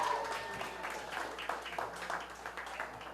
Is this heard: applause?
yes